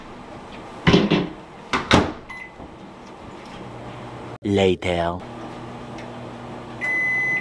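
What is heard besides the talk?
microwave oven running and beeping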